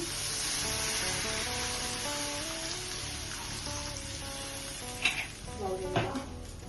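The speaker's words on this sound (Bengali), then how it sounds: "এখন আমি জল দিয়ে দিচ্ছি" Water poured onto fried masala in a pan for a lemon rohu fish curry, a steady sizzle with music playing underneath, then sharper bursts of hiss and clatter toward the end.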